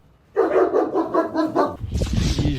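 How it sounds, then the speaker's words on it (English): A large dog barks close by in a quick series of about five loud woofs, followed by rougher, noisier barking and whimpering sounds. "that dog was huge"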